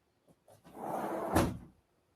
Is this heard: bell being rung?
no